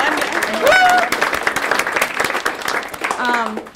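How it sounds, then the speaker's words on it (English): Audience applause at a Green New Deal rally fills the space, steady crowd clapping with voices and cheers mixed in throughout. "let's give her a round of applause before we go on"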